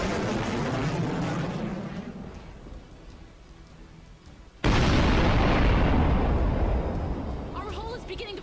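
Missile explosions in the Sunrider space combat game, heard as a low rumbling blast that fades, then a sudden loud boom that stays heavy and roaring before slowly tapering, with a voice speaking during the sequence.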